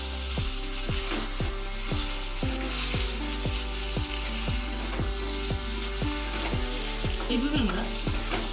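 Eggplant pieces seasoned with salt and turmeric fry in a pan with a steady, loud sizzle, punctuated by regular clicking taps from a utensil stirring at an even rhythm, with no voices.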